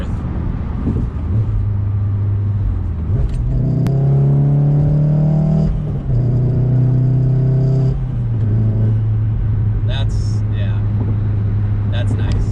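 Volkswagen Golf R accelerating hard in fourth gear to pass, engine tone rising steadily and loud for several seconds over road rumble, then settling; a person talks inside the car.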